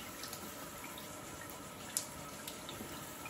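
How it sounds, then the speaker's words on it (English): A water tap runs steadily while hands are rinsed at a sink, a continuous close hiss of flowing water with one brief sharp click partway through. "You have to rinse your hands off and then turn the water off."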